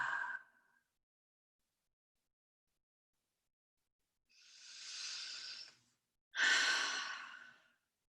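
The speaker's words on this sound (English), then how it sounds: "Inhale, inhale, inhale." Deep breathing during a guided exercise, two long, breathy inhales after a short exhale, heard close and alone with silence in between.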